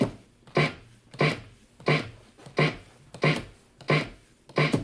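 Snare drum sample scratched by a DJ on turntables, repeated as clean forward stabs with no pullback: about seven sharp, evenly spaced hits roughly every two-thirds of a second, loud and close with nothing else in between.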